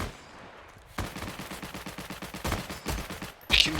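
An MG13 machine gun in the World War II shooter Heroes and Generals fires in quick repeated bursts of shots at close range, each burst followed by brief pauses.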